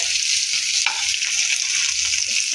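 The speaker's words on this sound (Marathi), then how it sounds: "आता परत आपण दुसऱ्या साईडने पलटी करून घेऊया." Pomfret fish frying in a pan just after being flipped, a steady close crackling sizzle with a brief sharper burst near the start, no voices.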